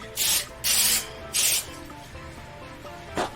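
Grease sprayed onto a pan in three short hissing bursts from an aerosol can, close and loud, followed by a quiet pause and a brief final spritz.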